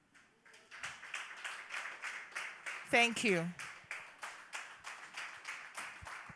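An audience at a college lecture and prize-giving day claps steadily after a speech, a rhythmic moderate round of applause with a brief voice speaking over it midway.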